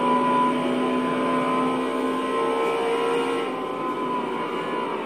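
A McLaren F1's engine drones in Forza Horizon 4 racing, holding a steady, tonal hum with clear harmonic lines that stays fairly level across the whole stretch, no voices over it.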